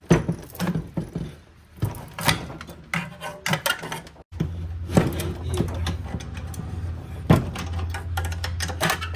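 Wrench working on exhaust manifold bolts of a 2018 Subaru WRX during a Tomei unequal length header install, with sharp metallic clicks and ratcheting bursts, clanks and knocks, close and loud, then a steady low hum underneath.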